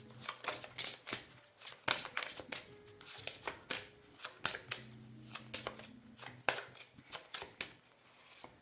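Tarot cards are reshuffled by hand in a series of quiet, rapid riffling and sliding bursts that come in an irregular rhythm, close to the listener and with no talking.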